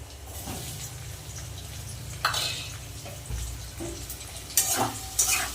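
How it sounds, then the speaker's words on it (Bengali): Chopped onions frying in oil with black cumin and garlic for a Bengali pabda fish kalia, a steady close sizzle broken by a few louder stirring scrapes and clinks of a spoon against the pan. "পেঁয়াজটা লাল লাল করে ভেজে নেব"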